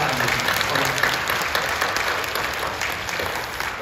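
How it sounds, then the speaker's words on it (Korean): A large church congregation claps steadily in sustained, dense applause, loud and close, without pause for the full stretch. "박수 한번 해주시죠"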